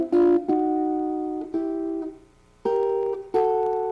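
Guitar plays chord-melody, moving in parallel major thirds with sustained, ringing two-note shapes that shift up and down in pitch, clear and close with no talking.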